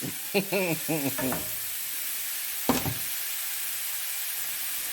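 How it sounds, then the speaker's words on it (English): Cheesesteak meat hits a hot oiled skillet with a brief burst of crackling, then a steady, close hiss of sizzling continues on its own. "y'all hear that sizzle"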